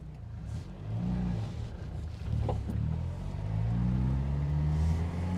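Citroen LNA small car from the 1980s driving, a steady low engine drone and road rumble that swells a little after the first seconds and holds close and continuous, with no talk.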